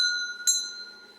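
A bell is rung once, a bright metallic strike whose clear ringing tones linger and fade through the short, quiet moment.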